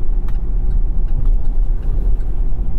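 Chevrolet Colorado ZR2 pickup with stiff off-road shocks, towing a load at low speed over bumps, heard from inside the cabin as a steady deep road and engine rumble with light juddering knocks.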